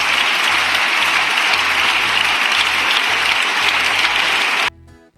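Deputies of a party bench in the Spanish parliament applaud, a dense, steady burst of clapping that fills the chamber and then stops abruptly near the end.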